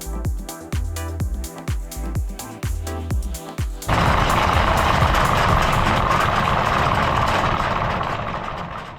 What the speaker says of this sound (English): We're just gonna put the head sail away, turn the motors on. Motors just turned on.